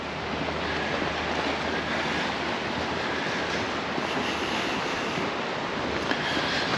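Sea waves breaking on rocks along the Mallorca coast at Costa de la Calma, a continuous wash of surf and spray blended with wind noise on the microphone, no talking.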